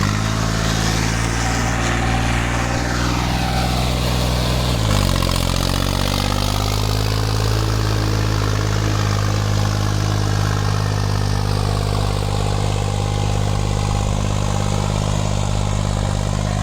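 A four-wheel-drive farm tractor with a sugarcane implement and both lifts lowered runs steadily, a loud, close, continuous diesel rumble with a brief shift in pitch early on.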